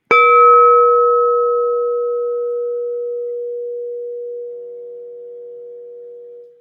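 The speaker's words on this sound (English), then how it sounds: "I ring out the bowl" A singing bowl is struck once and rings out in a steady, pure hum with a bright overtone, slowly fading over several seconds, close and alone.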